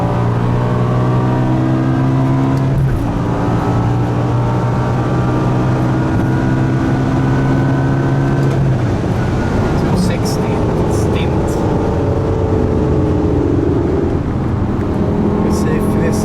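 An 800 HP G-Power BMW M5 with a supercharged V10 accelerates hard on the German Autobahn, its engine note climbing through gear changes and revving high, while people talk inside the car.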